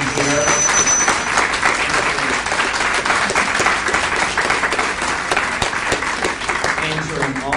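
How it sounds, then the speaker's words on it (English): Applause for mayoral candidates at a public forum, a dense sustained wash of many hands clapping, loud and continuous for the full seven seconds with no pause. "let's give the candidates a round of applause for being here"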